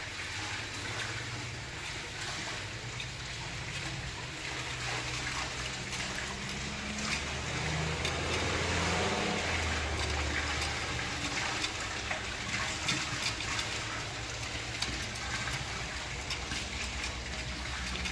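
Water runs steadily through 5/8-inch meters on a water meter test bench near the end of a 100-gallon test, making a constant, moderately faint rushing flow with slight surges.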